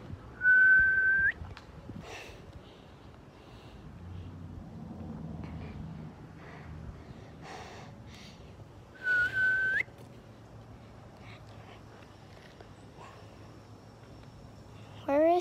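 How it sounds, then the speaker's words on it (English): During a game of hide and seek, a person whistles two short, steady, clear tones well apart, with quiet ambient noise between them. "I'm gonna whistle."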